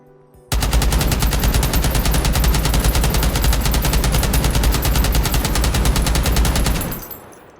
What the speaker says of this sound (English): let's actually use the bipod, since these are machine guns after all